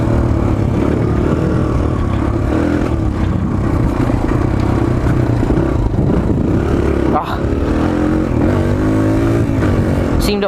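Suzuki DR-Z 125L dirt bike engine revving and shifting while being ridden on a track, a close loud drone rising and dipping, with a brief dip near the end.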